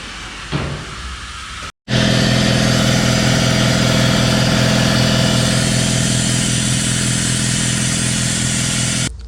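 An air compressor runs steadily and loudly after a brief start, a constant mechanical drone with a motor hum, left running to warm its oil; no one talks.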